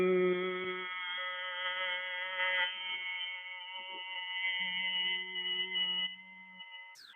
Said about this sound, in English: And you breathe out with a Bhramri sound like this.